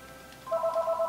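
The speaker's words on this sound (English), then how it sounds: "God damn it, the phone's ringing again." A home telephone rings in the Earthbound video game: a short, loud electronic trill that starts partway in and repeats in rapid pulses, alone without speech.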